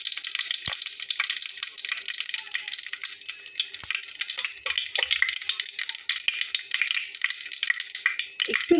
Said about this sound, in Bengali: তেলটা কিন্তু অলরেডি গরম হয়ে গেছে। তো প্রথমে আমি এখানে দিয়ে নেব শুকনো মরিচটা। শুকনো মরিচটা একটু ভালো করে ভেজে নেব।